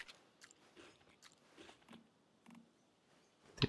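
A character eats food in the Once Human game, with quiet crunchy bites and chewing sounds in a short irregular series, faint and close, ending with a louder crunch.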